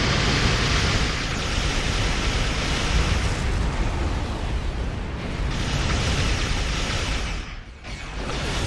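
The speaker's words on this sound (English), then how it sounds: "This is the first time I've used these piezo polaron cannons, and I have to say I'm quite impressed with them actually." Piezo polaron cannons fire in Star Trek Online aboard a Lukari N'Kaam scout ship, a loud, continuous roaring barrage of energy blasts and rumbling bursts that runs almost unbroken, dipping briefly near the end.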